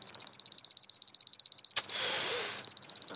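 An alarm clock rings with rapid, regular high-pitched beeps, loud and close, briefly swamped by a burst of harsh noise before the beeping resumes.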